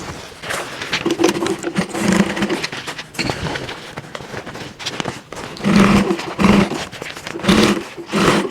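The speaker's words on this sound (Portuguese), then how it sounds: "Vou fazer esse pespontinho aqui do outro lado também." A sewing machine topstitches a fabric bag in bursts of rapid mechanical whirring, several runs separated by short pauses, close and fairly loud.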